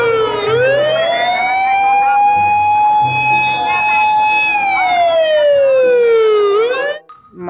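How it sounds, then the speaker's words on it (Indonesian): A toy fire engine sounds its siren loudly and close: a wailing tone climbs, holds for several seconds, then slides back down before cutting off, with nothing else heard. "Dan yang terakhir, pemadam kebakaran."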